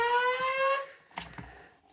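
A silver speaker strobe on a voice evacuation fire alarm system under test gives a steady electronic tone for under a second, then cuts off, followed by a couple of soft knocks in a quiet room.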